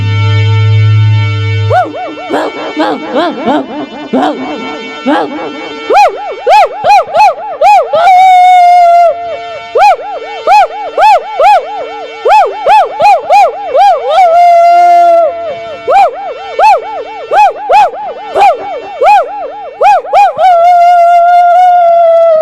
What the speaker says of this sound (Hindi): अचानक से एक कुत्ते के भौंकने की आवाज आई